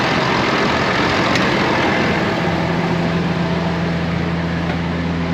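A loud air blower runs steadily in a New Holland 740 tractor cab, a constant broadband rush over a low engine hum, with no talking.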